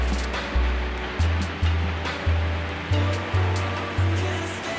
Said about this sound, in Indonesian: kita blender sekali lagi.